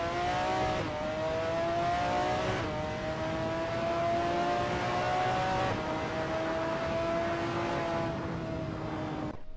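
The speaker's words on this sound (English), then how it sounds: "That ASRL McLaren F1 GTR looks good driving through T11." A McLaren F1 GTR race car drives through turn 11 at Sonoma in a racing video game. Its engine gives a sustained, strongly pitched drone that climbs steadily, dropping back at each of several upshifts, with no talking over it.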